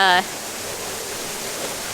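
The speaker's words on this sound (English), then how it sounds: "Look at the big waterfall right here." Large waterfall in the Jurassic Park area of Universal Studios, a steady broadband roar of rushing water that continues evenly throughout after a brief voice at the very start.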